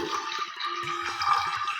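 Water poured from a vessel into a pressure cooker holding cowpeas for Onam olan, a steady splashing stream running unbroken for the whole stretch, close by and with no voices.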